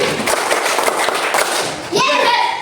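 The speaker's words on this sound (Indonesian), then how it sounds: "mari kita tutup dengan tepuk 5 satu kali." A group in a coaching session closes with the five-beat clap, a burst of quick, sharp handclaps in unison ringing out loudly before giving way to a voice.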